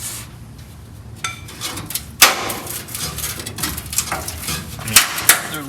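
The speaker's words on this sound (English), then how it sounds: "Let me get in there with the hammer." Hammer blows on metal in the engine bay of a 1965 VW Beetle during restoration, a few sharp irregular strikes and clanks over background noise.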